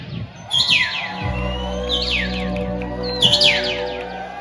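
An agitated bird calls out in repeated harsh chirps, three loud bursts of rapid descending tweets over a steady low hum, close by and with no voices.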